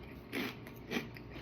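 Dill pickle potato chips are crunched close up in two distinct bites about half a second apart, each a short, crisp burst against a quiet background.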